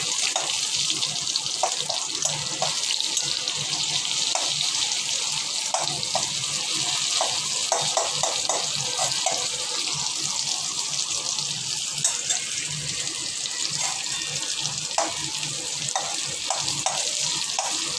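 A whole tomato and rings of sliced medium onion frying in oil, giving a steady, bright sizzle throughout, with occasional soft clinks of stirring near the pan.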